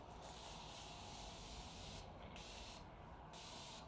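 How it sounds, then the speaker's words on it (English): Morphe Continuous Setting Spray misted onto a face: a faint, close hiss running in short back-to-back bursts, with brief breaks between the pumps and no talking. "I'm just going to go in with the Morphe Continuous Setting Spray."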